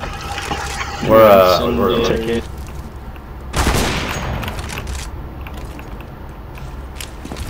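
Gunfire in Counter-Strike, a sharp burst of shots around the middle, with a player talking over the start and other game noise in the background.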